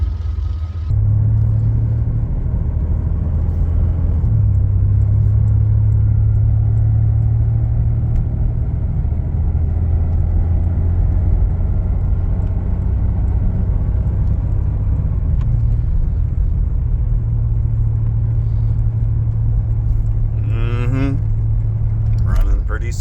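A 1993 Chevrolet Blazer driving on the road: a steady low engine drone and road rumble from inside the cab, with the pitch stepping up and down slightly as it cruises, no talking.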